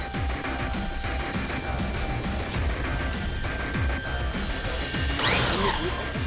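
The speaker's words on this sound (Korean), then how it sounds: "다음은 드릴로 직접 뚫기 시작한다" A power drill bores into a heavy steel safe weighing over 700 kg, grinding steadily and loudly through the whole stretch with rattling mechanical clatter and a harsher burst near the end.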